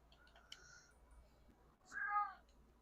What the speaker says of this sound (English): Cat is talkative today.